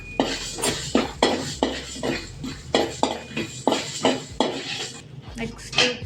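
Fenugreek seeds dry roasted in a metal pan for homemade puliyogare powder, with a rapid rhythmic series of scraping, clinking spatula strokes against the pan, close and fairly loud.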